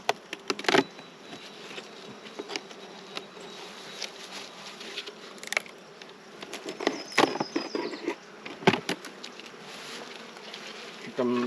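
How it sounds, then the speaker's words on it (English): Honey bees buzz around an opened production hive, a steady close drone with individual bees zipping past the listener, punctuated by clicks and knocks of hive equipment. "Here come the bees to greet me"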